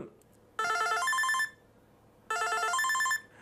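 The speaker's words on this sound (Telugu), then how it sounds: "ఇక్కడ రింగ్ టోన్స్ ఉన్నాయి సో మీరు ఇందులో రింగ్ టోన్స్ని కూడా చేంజ్ చేసుకోవచ్చు" A bright electronic phone ringtone plays a short melodic phrase twice, separated by a pause of about a second, close and clear.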